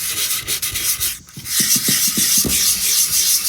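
A wooden icon board is sanded in circular strokes with 120-grit sandpaper, giving close, dry, rhythmic rasping rubs with a short pause between bursts.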